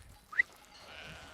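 A single sheep bleat rises near the start, short and fairly clear against a quiet farm background, from a flock of about 1,500 sheep including ewes that have recently lambed.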